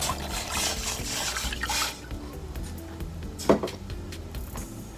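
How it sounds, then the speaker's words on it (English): Water pours steadily into a cooking pot for tom kha gai soup for about two seconds, followed by a quiet clink and soft kitchen sounds. "Add some water."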